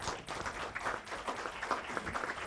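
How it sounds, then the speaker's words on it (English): A crowd at a county Board of Commissioners meeting claps steadily at a moderate distance, a dense patter of many hands. "Let's give them a round of applause."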